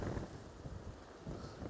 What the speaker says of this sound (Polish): A wieje tutaj okrutnie, jest tak mocny wiatr teraz